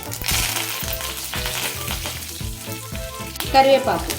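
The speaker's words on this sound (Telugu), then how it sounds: "ఆవాలు వేసుకున్న తర్వాత జీలకర్ర వేసేసుకోవాలి, ఎండుమిర్చి, ఇప్పుడు సుర్రుమంటాయి" Mustard seeds, cumin and dried red chillies crackle and pop in hot oil for a Godavari-style drumstick rasam tempering, rapid close spluttering over a steady sizzle, with a few stirring scrapes and a louder burst near the end.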